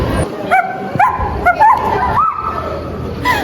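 Short high yips, barks and whimpers from a dog, or a voice imitating one, come in quick bursts during a Filipino film scene, close and fairly loud over a busy background.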